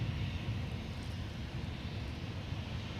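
An airliner's jet engines roar at a steady distance during takeoff on runway 30 left at Minneapolis–Saint Paul airport, a broad continuous rumble with no voices over it.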